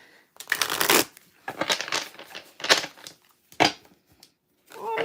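A tarot deck of heavy glossy cardstock is shuffled by hand, giving several bursts of crisp riffling and slapping separated by short pauses, close and clear.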